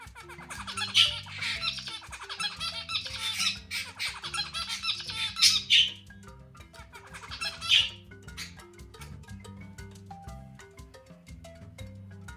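A pet budgie and a finch chirp and squawk repeatedly in bright bursts close by, busiest early on and thinning toward the end, with no talking.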